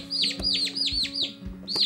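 Baby turkey poults peep in a rapid series of high, bright chirps, several overlapping calls close by, with soft handling noise and low background hum beneath them.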